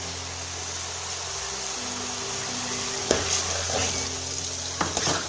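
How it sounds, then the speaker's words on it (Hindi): Onions frying in oil in a pan for chicken karahi, a steady low sizzle with a couple of brief stirring knocks near the end, close with a faint background hum. "अब हमने इसमें ऑयल डाल देना है और हमने इसको तब तक भूनना है जब तक इसका कलर ब्राउन ना हो जाए प्याज़ों का"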